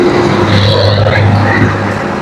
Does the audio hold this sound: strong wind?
yes